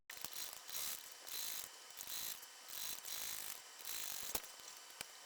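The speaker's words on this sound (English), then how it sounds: "Back stitching at the beginning and the end of the seam." A sewing machine stitches and back-stitches a seam on a flap bag, giving steady mechanical whirring in repeated short runs with a few sharp clicks, close and fairly quiet.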